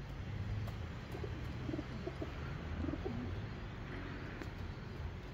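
Racing pigeons coo faintly at their loft after a young-bird race, low soft calls repeating over steady outdoor background noise, with no voices.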